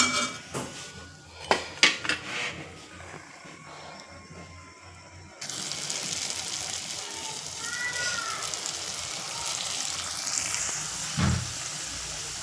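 Dishes being washed, with a few sharp clinks of pots and pans at first, then running tap water hissing steadily over faint talk.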